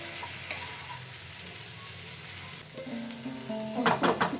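Sambar masala from Everest sautéing in a pan, with a steady, moderate sizzle and light stirring, ending in a few louder utensil scrapes and clatters against the pan.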